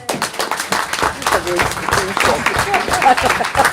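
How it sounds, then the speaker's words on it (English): Scattered clapping from an audience patters throughout while people talk over it. "Let's start with a round of applause, shall we?"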